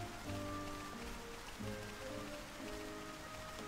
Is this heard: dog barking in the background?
no